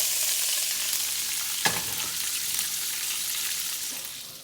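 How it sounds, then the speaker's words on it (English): Fresh green beans, washed and with the ends snapped off, sizzle steadily in a hot pan as a side for ribs, with a brief stir or clatter partway through and a constant frying hiss throughout. "we just gonna saute these to go along with our ribs"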